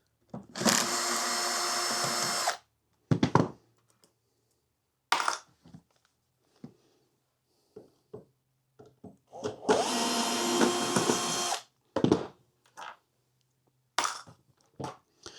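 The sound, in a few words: screws being removed from a cabinet chassis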